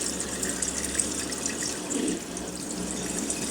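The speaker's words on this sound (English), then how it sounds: "I'm hoping it's draining out all the water that's in the drum." A Haier HLP21N washing machine pumps water out of its drum, a steady gushing, splashing flow with a hissing top end that runs continuously at moderate level.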